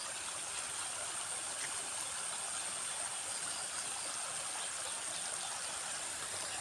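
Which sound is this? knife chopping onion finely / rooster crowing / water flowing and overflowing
water flowing and overflowing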